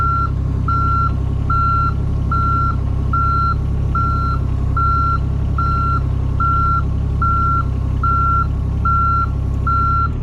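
A truck's reversing alarm beeps in a steady, evenly spaced series of about a dozen tones over a constant low engine rumble, continuing alone without talk.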